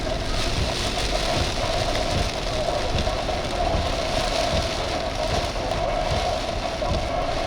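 Heavy rain pounds steadily on a vehicle during a storm around a rain-wrapped tornado near Moss Point, Mississippi, a loud, dense, unbroken drumming and hiss with wind noise beneath and no break throughout.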